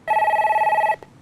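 A telephone rings once in a short, loud electronic burst, nearly a second long, as a viewer's call is connected on a Korean stock-market TV call-in broadcast. A faint click follows.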